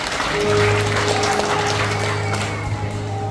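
A congregation claps together at a Christmas worship service, a dense, steady wash of applause lasting throughout, with sustained keyboard tones and a low hum beneath it.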